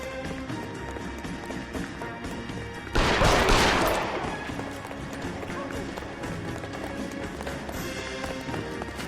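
Gunfire in the L.A. Noire video game: a loud burst of shots starting near three seconds then trailing off, with game music and voices underneath.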